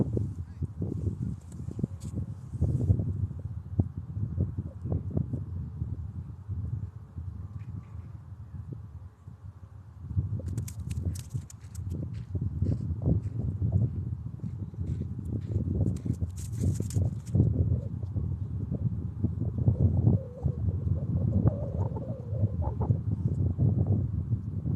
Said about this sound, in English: I don't know if you guys can hear me anymore because of the wind.